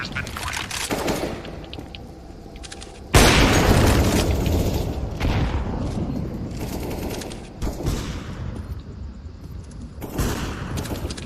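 Flashbang and smoke grenade blasts in a tactical shooter game, several sharp booming bursts with gunfire-like crackle spread over the stretch, loud and close with lingering hiss between.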